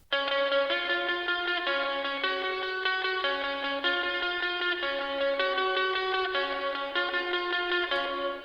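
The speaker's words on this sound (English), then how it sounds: "there's a second guitar that comes in that sounds like this." A clean electric guitar plays a repeating arpeggiated figure with a wash of reverb and echo, steady and alone with no talking.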